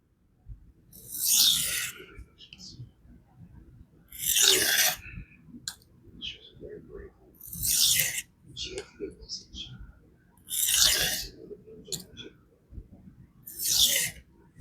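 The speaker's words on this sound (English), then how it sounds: "I'm just allowing the edge to basically touch" A knife edge scrapes across a budget diamond sharpening plate in steady rasping strokes, roughly five evenly spaced passes, close and fairly quiet, with soft breathing and small handling noises between strokes.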